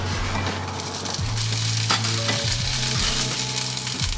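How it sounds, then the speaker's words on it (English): Mushrooms sautéing in a hot frying pan give off a steady, loud sizzle, with occasional stirring scrapes and light clinks of a utensil against the pan, and nobody talks. "I'm gonna saute that mushroom first."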